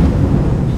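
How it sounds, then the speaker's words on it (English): Loud, deep thunder rumble in the video game Remember Me, a sustained low roar filling the short moment with no pause. "the thunder is so loud"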